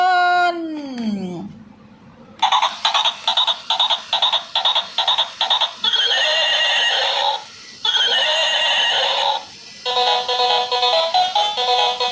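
A toy unicorn horse gives a sliding electronic neigh, then a tinny, rapid chiming jingle plays in repeated bursts with short gaps, loud and close.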